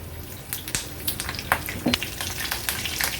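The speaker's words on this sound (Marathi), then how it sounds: "राई आणि जिरं थोडं तडतडलं का ही कढीपत्त्याची पानं फोडणीला घालूया" Mustard seeds, cumin and curry leaves sizzle in hot tempering oil, with sharp crackles and pops jumping above a constant close frying hiss.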